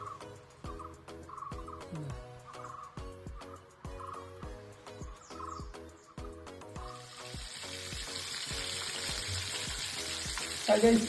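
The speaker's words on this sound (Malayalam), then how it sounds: "അത് നമ്മൾ നേരെ ചിറ്റാണ് വെട്ടി കഴുകി വറുക്കാൻ വെച്ചിട്ടുണ്ട്" Freshly caught chempalli fish, cut and washed, frying in a pan. A steady sizzle swells through the second half, rising louder near the end over a rhythmic tonal backing.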